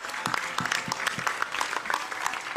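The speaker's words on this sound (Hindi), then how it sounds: "Another big round of applause for our Honorable Ayush Minister." A live audience applauds the Honorable Ayush Minister at a public event, with sustained, dense clapping that fills the room at an even level.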